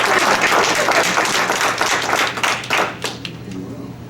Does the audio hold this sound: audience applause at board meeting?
yes